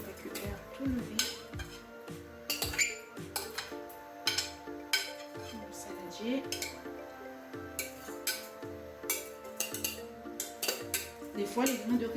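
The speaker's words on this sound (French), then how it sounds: "il faut bien racler le saladier avec la cuillère" Metal spoon scraping cooked rice out of a salad bowl into a saucepan, giving repeated clinks and scrapes in an irregular rhythm, close and fairly quiet, with a voice talking over it.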